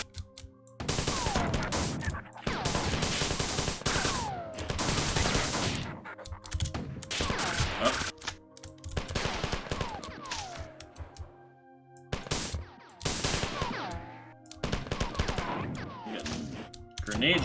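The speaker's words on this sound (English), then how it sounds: "Grenade shot at me here." In the shooter game Marathon, loud grenade blasts and gunfire crash out in heavy, repeated volleys with brief gaps between them. No speech is heard.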